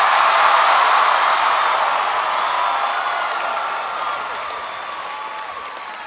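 Large crowd at a university commencement in a football stadium applauds and cheers, a broad sustained roar of clapping and voices that stays loud and slowly tapers off toward the end.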